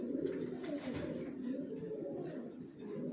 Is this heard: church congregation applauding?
no